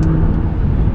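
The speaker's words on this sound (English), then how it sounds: "flip it down a few gears, and just take off" The 2015 Nissan GT-R Premium's engine pulls hard after a downshift, a loud, steady close-up roar lasting about a second with no talking.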